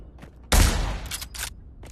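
A WWII firearm in the VR shooter Pavlov fires with a loud, sharp blast that rings out briefly, followed by a few quicker, quieter reports close by.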